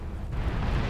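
A nuclear missile launches in the video game Beyond All Reason: a deep, heavy rumbling roar holds loud and steady for a brief moment.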